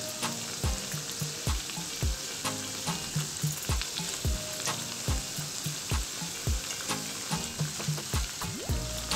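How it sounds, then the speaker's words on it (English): Onion bhajiyas fry in hot oil for a Goan-style snack, giving a steady close sizzle broken by repeated soft knocks and scrapes of stirring, with no talk. "Let them cook for 2 minutes on one side and then turn them around to fry the other side."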